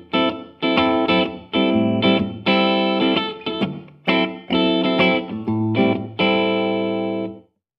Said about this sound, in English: In the first position, we have a room reverb.